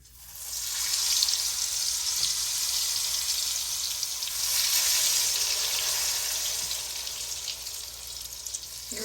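Cinnamon roll donuts drop into hot grease, which sizzles and bubbles with a steady, loud hiss that swells and eases over several seconds.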